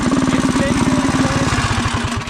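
Manco Dingo go-kart with a stage 3 Predator 212 engine running loud and close, a rapid steady firing pulse throughout with a voice talking briefly over it.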